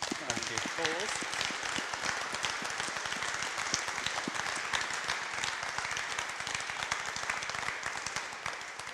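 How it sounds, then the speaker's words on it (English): Sustained live audience applause at an in-person talk on dinosaurs, evolution and religion, a steady dense patter of many hands clapping throughout, with some talk and cheering blended in early on. "So let's give applause."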